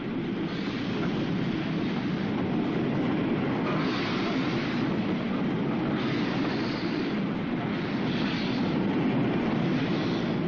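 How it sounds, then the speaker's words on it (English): A works train rolls along a railway track at night during a bridge replacement, giving a steady, loud rumbling roar with faint rhythmic rail clatter and no pauses. "And a works train moves up too."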